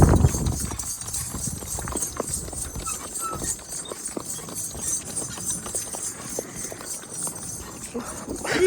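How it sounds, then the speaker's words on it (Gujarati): A mare's hooves clip-clop steadily throughout a ride, a continuous rhythmic patter of moderate loudness over outdoor background noise. "આપણી ઘોડી માથે ચડ્યા છે ભાણુભા"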